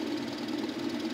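A Komatsu PC120 excavator engine runs steadily at close range, a low, even diesel drone with a knocking texture and no voices over it.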